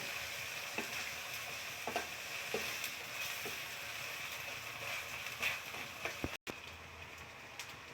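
Grated coconut frying in a pan, a steady close sizzle with faint scraping stirs, continuous and alone with no voices.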